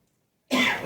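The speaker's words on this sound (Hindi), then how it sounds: "खांसी उठी।" A single sharp cough bursts out loud and close after half a second of silence, with a rough throaty tail.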